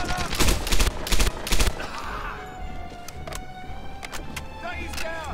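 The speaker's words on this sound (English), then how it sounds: "I shoot this guy from here." Gunshots in the World War II shooter Medal of Honor: Airborne, a rapid cluster of loud close shots up front, then scattered fainter shots over background battle noise.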